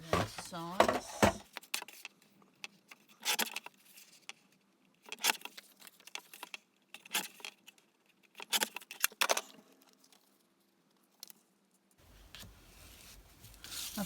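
Black cardstock being cut to size for a matte layer on a handmade card, heard as a series of short, close scraping and snipping bursts separated by quiet pauses, with some handling rustle.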